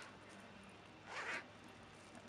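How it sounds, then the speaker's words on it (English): Zipper on a baby micro-fleece sleep suit being zipped up, a single short quiet rasp lasting about a quarter second against faint background hiss. "and then zip them up."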